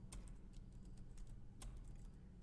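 Rapid typing of Java code on a computer keyboard, a quick run of light, close key clicks with an uneven rhythm over a low background hum, with no talking.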